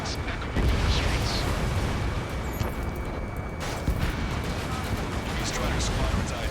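A steady, heavy wash of gunfire and roaring jet engines fills the streets of a city under martial law in the Ace Combat 7 video game, a constant dense rumble with scattered sharper blasts, while a voice talks over it.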